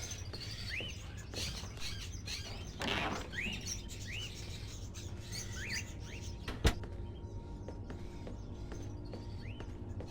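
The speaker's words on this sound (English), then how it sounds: "Are those crows in the cages?" Crows kept in cages in a gloomy house in the game Fahrenheit (Indigo Prophecy) give repeated short rising calls over a steady low hum, with one sharp click partway through.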